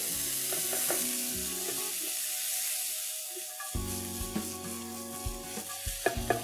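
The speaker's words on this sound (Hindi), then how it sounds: "आधा टीस्पून हींग और इसमें मैं पहले डालूंगी टमाटर। इसे 1 से 2 मिनट तक पका ले।" Tomatoes fry with curry leaves and asafoetida in a hot pan, giving a steady sizzle with stirring and scraping clatters toward the end, close and fairly loud, with no talk.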